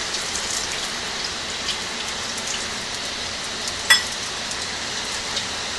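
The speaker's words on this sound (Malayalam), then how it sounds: "ഇപ്പം ഇവിടെ നല്ല മഴയാണ്" Steady, dense rainfall hissing close by, with one brief sharp knock partway through and no voices.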